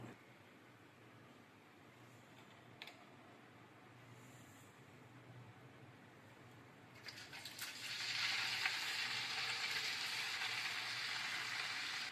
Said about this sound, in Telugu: ఇక్కడ ఉన్న ఇంగ్రీడియంట్స్ ఒక్కొక్కటిగా మరుగుతున్న నూనెలో వేద్దాం